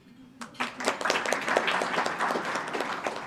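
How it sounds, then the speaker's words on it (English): A room of Rotarians claps, individual hand claps building quickly from silence into a moderate, fairly close round of applause that keeps going steadily. "Just a round of applause, please"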